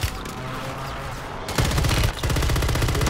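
Rapid automatic gunfire in the video game Warzone, a fast rattling burst starting midway and running loud to the end after quieter background rumble, with a brief pause in between.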